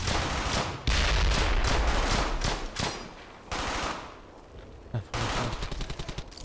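Machine gun covering fire in the World War II shooter game Brothers In Arms: Hell's Highway, loud rapid bursts of automatic gunfire that pause briefly and then resume, with no talking.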